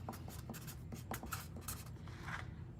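A pen scratches out a name by hand on paper, close and quiet, in short rhythmic strokes and scribbles with small pauses between letters.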